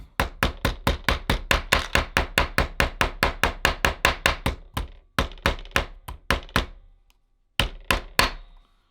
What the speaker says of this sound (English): I take a little hammer